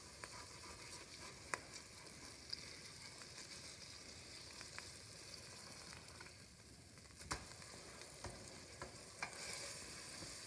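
A smash burger cooks in an air fryer with a soft, steady sizzle, broken by a few sharp scrapes and taps as the patty is flipped over.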